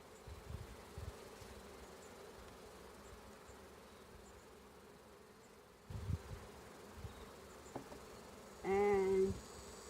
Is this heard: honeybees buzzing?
yes